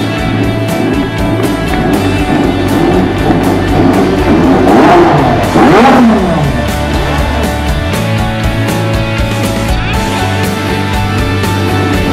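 A McLaren MP4-4 Formula 1 car engine roars loudly and continuously, its pitch climbing and sweeping in a sharp rev around the middle before settling back to a steady drone.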